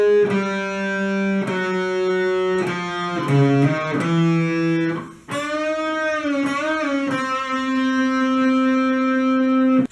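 Electric guitar plays the bridge of a song, with sustained distorted chords through an effects unit changing every second or so, then a bending, wavering melodic passage. It sounds loud and close and runs alone without talk.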